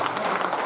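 Applause from a seminar audience in Varanasi, a dense steady clatter of clapping hands that runs at even loudness through the whole brief moment.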